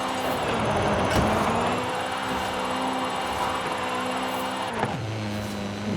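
A 1985 Toyota Sprinter Trueno drifts in Forza Horizon 5, its engine droning at steady revs with shifting tonal whines and brief dips as throttle eases, while tire noise runs underneath.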